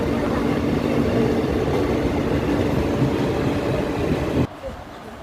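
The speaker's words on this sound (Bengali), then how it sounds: "এই যে একটা ট্রেন আসে, এটা আমাদের ট্রেন ছিল না, এটা অন্য ট্রেন।" A train pulls into a station with a loud, continuous rumble and rattle of cars rolling past. The noise cuts off abruptly near the end and leaves quieter ambience.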